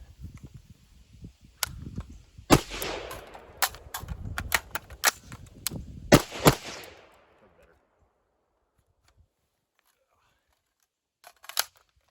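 Handgun shots ring out during a reload shooting drill: a run of sharp, close cracks in quick clusters, then quiet, then a final pair of shots near the end.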